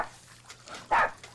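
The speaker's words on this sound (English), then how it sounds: "Let someone hear him barking." A dog gives one short, sharp bark near the end, close and clear over a quiet background with faint low hum.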